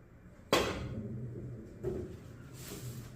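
A billiard cue gives a ball a soft tap with spin, producing a crisp click, then a second, lighter knock a little over a second later in an otherwise quiet room.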